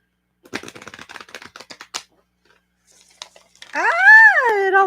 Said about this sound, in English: Let me just one more big shuffle.